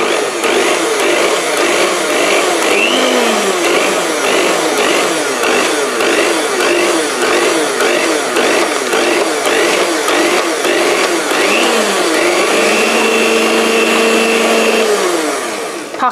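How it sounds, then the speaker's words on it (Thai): An electric mixer whirs loudly in short repeated pulses, stirring cake batter for rum balls, steady and close with no talk. "ต่อไปกระตุกเครื่องนะคะ ไม่ให้แป้งฟุ้งค่ะ"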